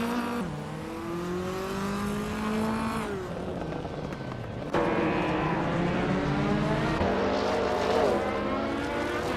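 Race cars engines drone and rise in pitch through gear changes in a racing game, including a 1994 Ford Mustang Cobra, loud and continuous with layered engines and no talk.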